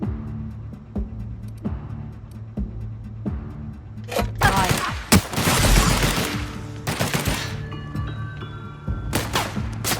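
Gunfire in The Outer Worlds: a steady low hum with scattered shots, building into loud rapid bursts of overlapping fire through the middle and trailing off into a few sharp cracks.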